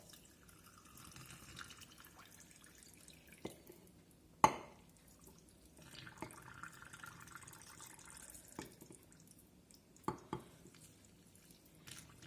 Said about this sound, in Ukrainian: І тепер я його буду заливати водичкою.